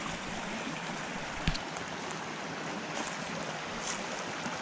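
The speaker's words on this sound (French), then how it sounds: "on traverse tout facilement, hein, Doudou, le petit ruisseau là." A small forest stream running high with plenty of water, a steady broadband rush and gurgle that fills the whole clip at constant level, with one brief knock partway through.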